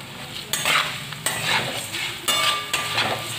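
Flattened rice being stirred and fried with curry leaves, dried red chili and cumin in a pan, giving a steady sizzle broken by four rhythmic scraping stirs about every second, close and fairly loud.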